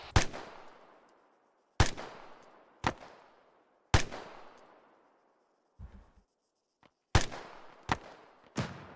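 Gunfire in Arma 3 military sim during a section training assault on bunkers: sharp, loud single shots and short doubles spaced a second or two apart, each ringing out with a long echoing decay, no talking.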